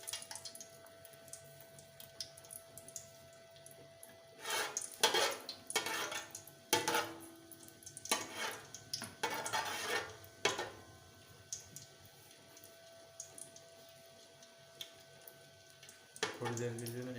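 Green cardamom pods frying in hot ghee while a metal spoon stirs and scrapes the pan, clinking in irregular bursts over a faint sizzle, with a voice talking at moments.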